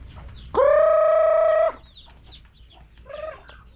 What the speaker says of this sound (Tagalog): Mga inahin marami rin.